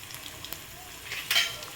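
Garlic fries in hot oil with cumin seeds in a home kitchen, giving a brief, faint, soft sizzle with small crackles.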